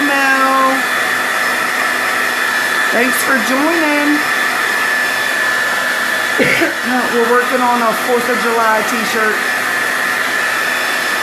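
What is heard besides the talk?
blow dryer running on hot setting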